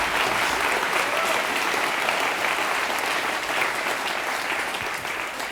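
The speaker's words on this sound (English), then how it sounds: "applaud if you want to" Studio audience at a British comedy improv show applauding steadily and loudly, a dense continuous clatter of clapping hands that carries on for several seconds without fading.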